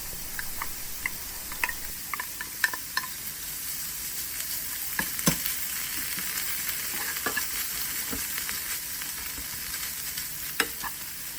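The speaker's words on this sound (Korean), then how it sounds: "양파가 어느 정도 익으면 참치를 넣고 같이 볶아주세요" Chopped onion and tuna stir-frying in a pan, giving a steady close sizzle with scattered light ticks and clinks as they are stirred, with no voices.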